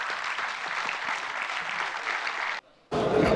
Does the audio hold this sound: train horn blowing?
no